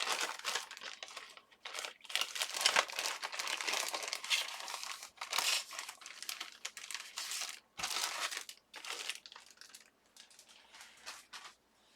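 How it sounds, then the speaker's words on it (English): Scraps of printed scrapbook paper crinkle and rustle as hands sort through them for mixed-media tags, a busy stretch of close, dry crumpling and shuffling with short pauses and no talking. "I pulled out my scraps of printed scrapbook paper because I really need to use some of this up as well"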